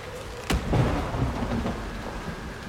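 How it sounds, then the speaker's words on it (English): Lightning cracks sharply in Dragon Age: Inquisition, then thunder rumbles low and long under steady rain, fairly loud and close with no talk. "Lightning did not just come down and strike that, did it?"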